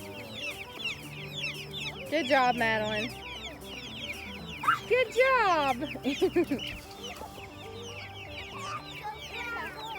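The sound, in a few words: young meat chickens clucking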